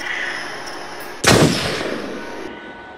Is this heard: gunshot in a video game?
yes